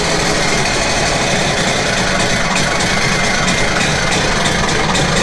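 A 2014 Sea-Doo GTX 215 jet ski engine, out of the water and fed by a garden hose, runs loud and steady at idle with a dense, rough mechanical roar and hissing noise throughout, no talking.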